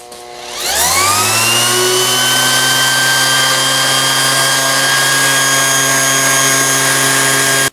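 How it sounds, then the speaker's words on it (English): A random orbital sander spins up sharply and then runs at a steady high-pitched whine while sanding body filler on a Predator 212 gas tank, loud and close with no speech. "you just saw me using the random orbital here"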